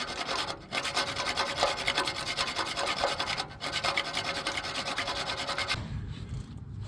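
Hand saw or file working through a rusted exhaust manifold bolt on a 2003 Ford F150, a continuous close rasping scrape with steady back-and-forth strokes and brief pauses between them.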